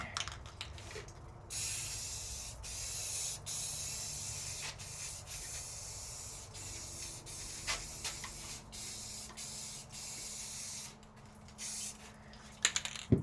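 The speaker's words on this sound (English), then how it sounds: "So we're going to get started and do a little test, little spray right here" Aerosol spray paint hissing steadily onto a test area of an American flag, a long continuous close spray with a few brief breaks, loud and alone without speech.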